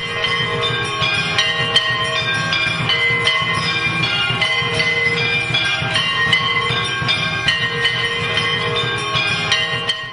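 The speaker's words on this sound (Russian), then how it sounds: "видим арати под аккомпанемент традиционных колоколов и гонгов, которые сейчас слышны во многих храмах во Врадже" Traditional temple bells and gongs ring continuously during an arati ceremony at a temple in Vrindavan, India, loud and close, with dense metallic clanging steady for the whole stretch.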